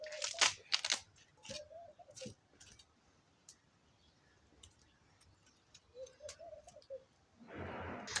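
A pumpkin peeled by hand with a knife: scattered crisp ticks, scraping and crunchy tearing strokes, close and quiet, with a brief burst of rustling at the end.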